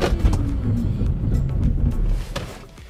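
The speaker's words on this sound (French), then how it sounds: "je vais enfoncer le frein de toutes mes forces." An Audi Q4 Sportback e-tron electric car braking hard from 90 km/h, decelerating with low road rumble and tire noise fading toward the end; no talking.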